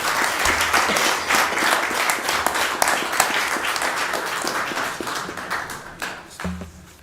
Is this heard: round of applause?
yes